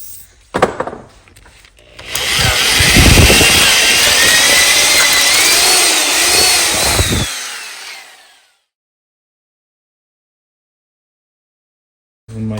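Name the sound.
drilling with a bigger drill bit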